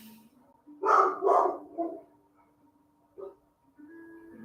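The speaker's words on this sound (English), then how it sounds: "He's barking a lot." A dog barks twice in quick succession, fairly close, then gives a shorter yip-like bark, with a steady low hum in the background and no talking.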